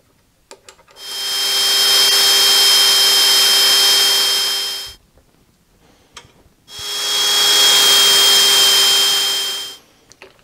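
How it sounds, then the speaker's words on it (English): A power drill bores a 1/8-inch pilot hole in metal while a new mill vise handle is made, running in two steady, loud bursts of about four and three seconds with a pause between. "now I'm going to drill an 1/8-inch pilot hole"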